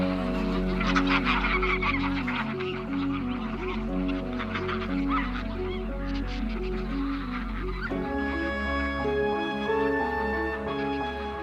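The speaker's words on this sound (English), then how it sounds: "attract thousands of wild geese in the winter. Their calls fill the air" A dense chorus of wild geese wintering along the River Rhine, honking continuously, many birds calling at once, loud and close, with the flock's clamor filling the whole stretch.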